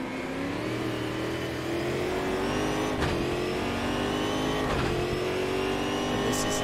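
A Brazilian Stock Car Championship race car at full throttle, its engine roaring steadily with a high transmission whine rising as it accelerates, loud and close, with brief dips at gear changes.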